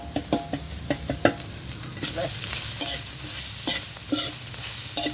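Garlic, shallots and curry paste stir-fried in a pan: repeated close scrapes and clinks of a spatula over a soft steady sizzle, irregular and unaccompanied by talk.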